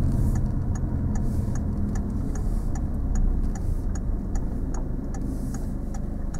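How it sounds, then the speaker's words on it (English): A car creeping slowly forward during a driving lesson on a slight hill, its engine a steady low rumble with a faint regular ticking like an indicator running throughout, no talk. "So just get the car moving forward slowly"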